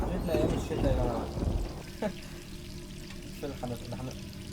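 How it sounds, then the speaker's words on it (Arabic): A tap left running in the video game Resident Evil 3 Remake, a soft steady pour of water under people talking, easing into a quieter trickle. "انت ليه سايبه الحنفيه؟"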